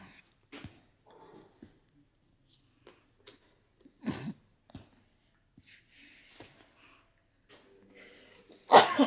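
A single sharp sneeze bursts out near the end, loud and close, after a stretch of quiet with scattered soft noises.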